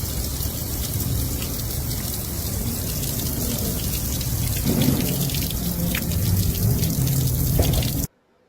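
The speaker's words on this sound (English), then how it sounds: "Oh, she's just draining out the summer water." Water drains steadily out of a car door during a mechanic's inspection, a continuous close splashing and trickling patter that runs without a break, then stops abruptly.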